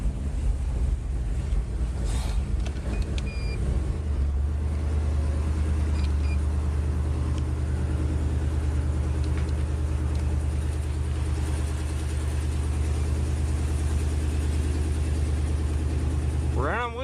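Wood-gas-fueled engine idling steadily with no gasoline, a continuous low rumble throughout with wind buffeting the microphone.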